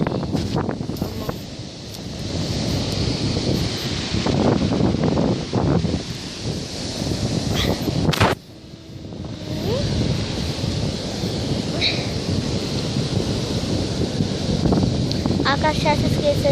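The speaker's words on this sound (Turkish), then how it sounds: "Çünkü dalgalar." Wind gusts and surf wash across a sea beach, a continuous rushing roar with a brief dropout midway, while children's voices and chatter come and go over it.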